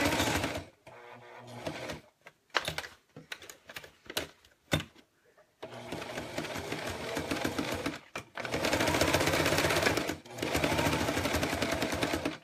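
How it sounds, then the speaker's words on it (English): Sewing machine back stitching a zipper, running in short stop-start bursts and then longer steady stretches of rapid mechanical stitching, close and clear. "So I'm back stitching."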